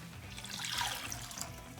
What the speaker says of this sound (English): Get our water going.